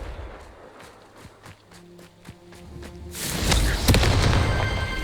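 Confringo spell blasts in Hogwarts Legacy: light footstep-like taps and low thuds, then a loud crackling burst that swells and keeps rumbling through the last two seconds, alone with no talk.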